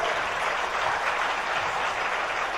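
Steady applause from an audience at a Jain religious class, a dense, continuous wash of clapping at constant loudness throughout, with no voices over it.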